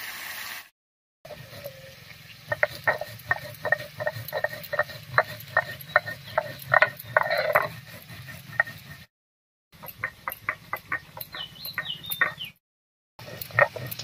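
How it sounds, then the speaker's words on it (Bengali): Roasted fennel seeds being ground in a grinder make a rapid rattling, grinding churn that is close and moderately loud. It runs in bursts split by short silences, with no talking. "মাছগুলো ভাজা হতে হতে ভেজে রাখা মৌরিটা গুঁড়ো করে নিচ্ছি।"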